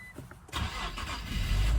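A used car's engine cranks briefly and catches, rising quickly into a loud, close idle after a jump-started battery.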